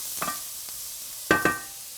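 Salt and pepper being stirred into an egg bake mixture, a few short soft scraping strokes of a utensil against a bowl, close and quiet with no talking.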